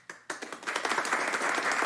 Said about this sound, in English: How about a huge round of applause to my Tails Prada?